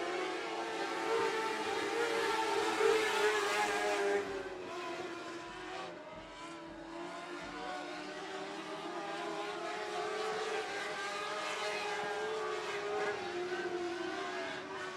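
Race cars circling at 105 Speedway, a continuous roar of engines rising and falling as the pack passes, loud and fairly near, with the pitch shifting as cars go by.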